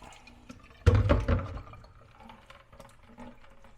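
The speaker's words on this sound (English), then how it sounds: "Drain the rest of that water out." Cooking water drains out of a pot, a loud splashing gush that swells suddenly and runs for about a second before trailing off into quieter trickles and drips.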